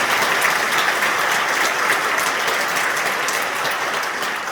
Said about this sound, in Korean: 힘차게 박수 한번 보내주시면 감사합니다